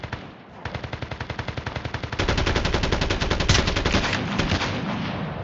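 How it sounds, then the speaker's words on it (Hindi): Automatic gunfire in the mobile shooter game Call of Duty Mobile, a long rapid burst of evenly spaced shots that thickens into a denser, louder volley halfway through, close and harsh, with no talk over it. "राइट से गोली चल रहा भाई।"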